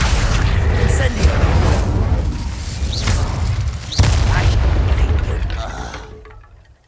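Incendio fire spell cast in Hogwarts Legacy, a dense roaring burst of flame and impacts with a sharp boom near the four-second mark, fading out toward the end.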